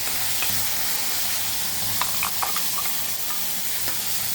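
Green chutney hits a hot tempering of sesame oil, mustard seeds and curry leaves, giving a steady close sizzle and hiss with a few faint stirring clicks.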